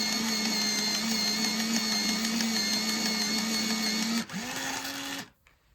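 A lime peel colored pencil is ground in an electric sharpener, a steady whirring motor hum close by that shifts pitch briefly near the end before cutting off into quiet.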